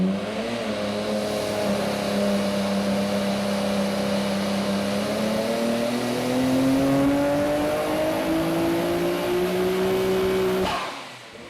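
A Nissan Skyline R32 GT-R runs hard on a dyno, its engine drone rising gradually in pitch through a loud, steady pull before shutting off suddenly at the end, with no voices.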